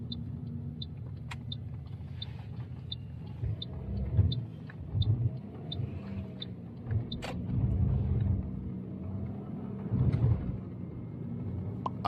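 A car driving along a residential street during a mock driving test, heard from inside as a steady low engine and road rumble with small swells, plus faint regular ticking, probably an indicator, and a few brief clicks.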